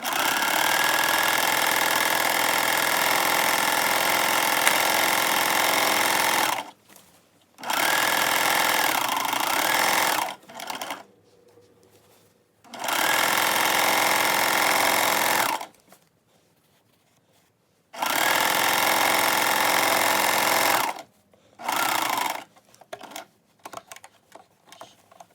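A domestic sewing machine stitches the inseam of a pair of Glebe pants in four steady runs of several seconds each, loud and close, with short quiet pauses between them and no talking.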